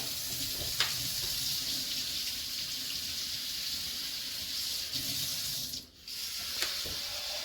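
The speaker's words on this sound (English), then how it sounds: "Waiting for the tap to run hot." A kitchen tap runs steadily with warm water during bread making, a continuous close splashing hiss that dips briefly near the end before flowing on.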